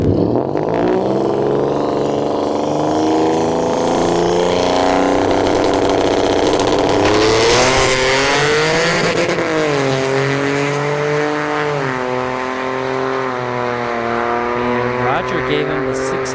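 Loud, continuous engine roar of an S187 Mustang and a Tesla Model S Plaid lined up at a test-and-tune drag strip, rising into a hard launch with harmonic revving that sweeps up and settles, commentary talk over it throughout.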